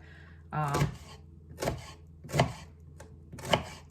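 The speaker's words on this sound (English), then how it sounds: "I am gonna cut this onion just for you to have idea how to cut onion" Kitchen knife slicing an onion into thin slivers on a board, four distinct sharp cuts spaced about a second apart, close and crisp, with faint speech between strokes.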